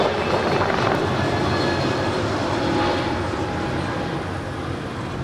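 A jet airliner taking off at Los Angeles airport makes a steady, broad, rushing roar that holds loud and even for several seconds and eases slightly toward the end, with no voices.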